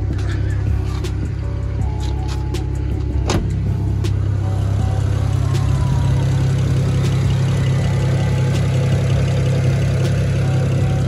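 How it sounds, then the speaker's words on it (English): A car engine idles steadily after new parts have been fitted, a constant low mechanical hum with a few sharp clicks and ticks early on, heard alone and close. "Seems to be idling right."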